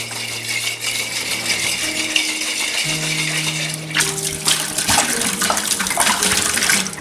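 Water sloshes and rattles inside a glass carboy being shaken during cleaning after mead making, a continuous churning swish with rising splashes toward the end, no talk.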